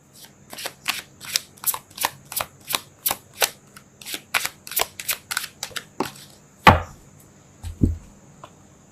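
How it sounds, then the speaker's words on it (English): Tarot cards shuffled by hand in a rapid run of about twenty crisp, evenly spaced riffling snaps, close and clear, then a sharper slap and a soft thud as a card is pulled and laid down. "I'm going to pull one more card"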